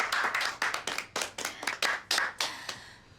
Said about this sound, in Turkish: O zaman Firuze'ye bir alkış.